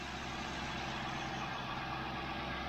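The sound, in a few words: Lincoln Town Car engine idling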